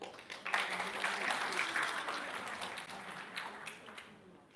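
Audience applause at the Rewiring Rights Hackathon for Justice as a team is invited on stage, a crowd clapping that swells quickly, then slowly thins and fades over several seconds.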